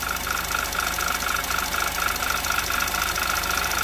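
The running 2.0T TFSI engine of a 2011 Audi TT Quattro idles with a fast, even ticking from noisy valve lifters over a steady engine hum, close and clear.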